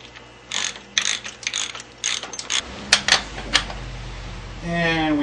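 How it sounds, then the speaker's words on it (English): A ratchet with a 30mm socket tightens a nut, clicking in quick bursts of ratcheting strokes, loud and close, with no talking. "And we torque it to the proper torque spec, which is real darn tight."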